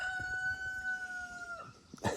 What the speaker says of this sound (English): he crows all day, guys. From sun up to sundown, he crows all day